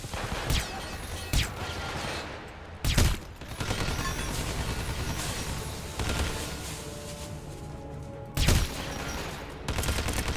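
Machine gun fire in the Hitman Absolution video game, in a wrestling-ring fight setting, crackles in sustained fusillades punctuated by several loud, sharp bursts over a dense, noisy background.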